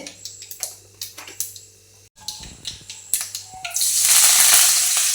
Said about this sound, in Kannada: ಈಗ ಒಗ್ಗರಣೆಗೆ ಇಟ್ಟಿದ್ದೇನೆ ಸಾಸಿವೆ ಬೇಳೆ